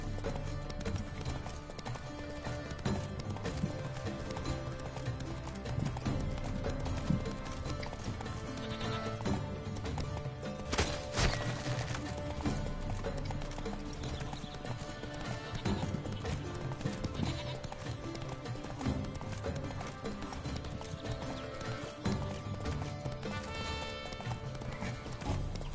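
Roach the horse gallops in a video game with rapid, continuous clip-clop hoofbeats, joined by whinnies and busy game sound throughout.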